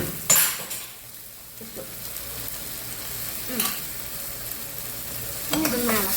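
Onion, tomato, green chilli and ginger-garlic paste fry in a pan for a mushroom masala curry, with a steady low sizzle and a few sharp metal scrapes and clinks as the mixture is stirred.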